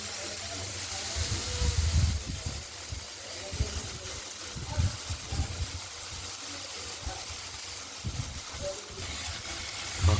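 Okra and potato pieces fry in a pan for a Bengali poppy-seed chorchori, giving a steady hiss and sizzle with intermittent low knocks and handling noises close by.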